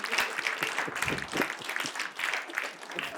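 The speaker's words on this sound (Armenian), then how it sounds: "շնորհակալություն ծափարելու համար" An audience breaks into applause, with dense, steady clapping at moderate volume continuing throughout, with a faint murmur of crowd voices beneath.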